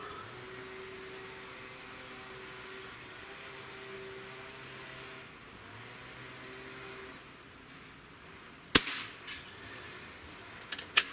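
Single sharp shot from a Beeman QB78S CO2-powered air rifle, a loud crisp crack followed by a brief tail and a couple of fainter clicks, set against a steady low outdoor hum.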